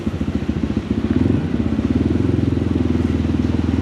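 A motorcycle engine during wheelie practice on a legal spot runs close and loud, with a steady throbbing rumble that swells slightly partway through, with no talking.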